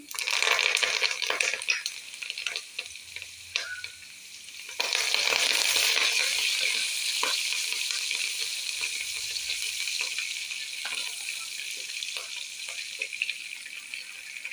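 Green fenugreek leaves fry in a pan with a loud, continuous sizzle and crackle. Stirring brings brief bursts that swell the sizzle before it settles back to a steady hiss.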